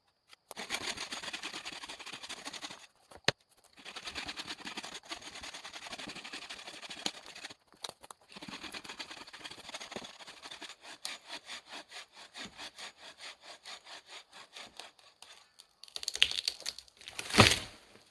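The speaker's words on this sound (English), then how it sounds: "I want to go show you guys how good having a saw can be" A hand saw cuts through a big, dry, dead standing tree at a campsite: a long run of rhythmic, raspy back-and-forth strokes, close and fairly quiet, with short pauses and a faster burst near the end.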